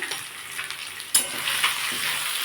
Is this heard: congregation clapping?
no